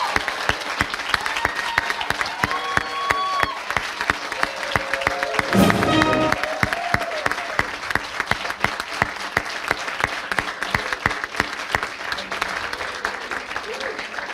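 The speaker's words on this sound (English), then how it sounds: "I would ask that we all offer a big round of applause for our graduates in the class of 2025" Outdoors at a 2025 graduation ceremony, a crowd applauds the graduating class with sustained, fairly distant clapping punctuated by sharper claps, and cheers and voices rise in the middle.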